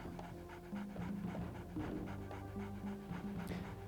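Panting dog in the video game MDK, quick rhythmic breaths repeating steadily throughout, close and fairly loud over a tonal game music bed.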